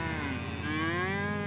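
A cow in the game Wobbly Life gives a long, sustained moo that bends upward in pitch, loud and close against a steady low background hum.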